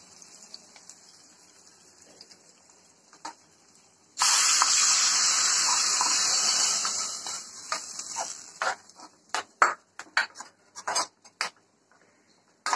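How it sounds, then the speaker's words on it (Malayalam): Hot mustard seed tempering is poured into tomato curry, setting off a sudden loud sizzling hiss that lasts a few seconds and fades, followed by scattered clinks and stirring taps close by. "ഇത് നമുക്ക് കറിയിലോട്ട് ഒഴിക്കാം."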